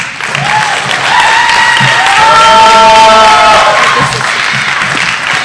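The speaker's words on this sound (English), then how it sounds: "please give a big round of applause for Michelle Dagney" An audience at a PechaKucha Night presentation event in Silver Spring claps steadily for several seconds, with whoops and cheers rising over the dense applause.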